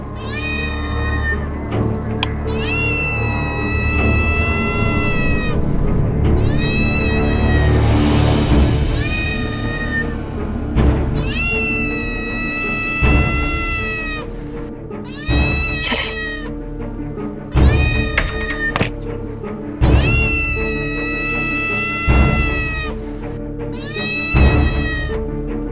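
A cat meows and caterwauls loudly and repeatedly, drawn-out wailing cries close up with brief pauses between them.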